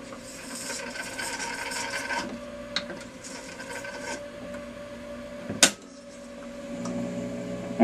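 A Telectro reel-to-reel tape recorder rewinding, a steady rasping, whirring mechanical rush with a few sharp clicks and one loud clack partway through, fairly close and alone.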